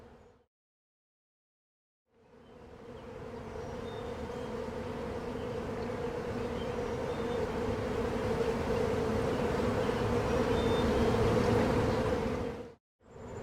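Honey bees from a newly installed three-pound package buzz in a dense, steady drone that starts after a short silence, swells slightly over about ten seconds, and cuts off abruptly.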